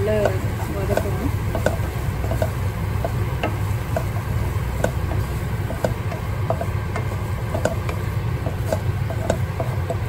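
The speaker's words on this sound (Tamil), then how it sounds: "இது கூடவே நான் கொஞ்சம் இஞ்சி பூண்டு பேஸ்ட் சேர்த்துருக்கேன், அதையும் போட்டு நல்லா வதக்கணும்." Onions frying with ginger garlic paste for egg gravy give off a steady close sizzle, with scattered clicks and scrapes from stirring running all the way through.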